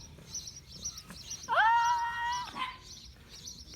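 A kitten lets out a single drawn-out meow, clear and close, while faint, repeated high chirps sound in the background.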